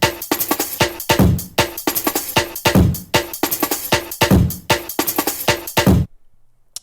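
A jungle drum break phrase in 90s N64 ambient style, with crisp loud kicks and snares in a fast, busy breakbeat, ending on a soft ghost snare hit before a sudden cut to near silence.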